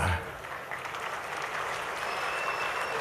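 Steady applause from an audience, a dense wash of clapping that holds evenly for a few seconds.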